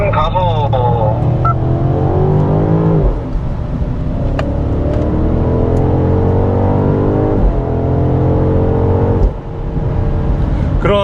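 A BMW X5 M60i accelerates at full throttle on a driving-centre track. The loud engine note climbs steadily, drops briefly at each gear change and climbs again, while a person talks over it.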